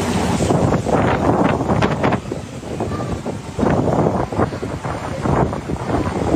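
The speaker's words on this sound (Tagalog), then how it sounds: "Hangin na po yung naririnig natin, ha. Hangin po yan." Strong typhoon wind in Batanes roars in loud, continuous gusts that buffet the microphone, with surging rushes throughout and no voices.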